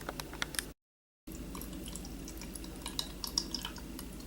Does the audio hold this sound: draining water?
yes